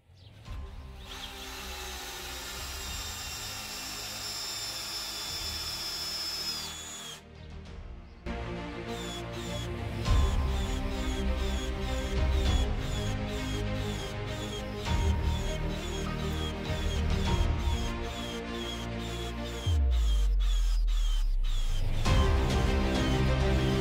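Cordless drill, a Milwaukee M18 CBLDD or DeWalt DCD 790, driving screws into wood at low battery charge, a long steady whirring motor run with a brief pause and a deeper, heavier load near the end.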